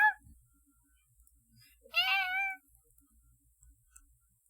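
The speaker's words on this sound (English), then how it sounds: "My cat, I can hear her. Outside my door." A cat meows outside a closed door: a short faint call at the start, then one clear, drawn-out meow near the middle, in an otherwise quiet room with light shuffling.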